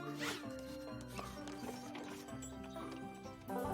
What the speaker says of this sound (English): And those there are horse-drawn carriages.